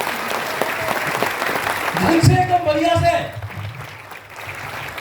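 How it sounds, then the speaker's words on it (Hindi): A seminar audience claps loudly, the applause swelling to a peak midway and then tapering off, while a speaker keeps talking over and after it. "सारे जोर से ताली बजाओ"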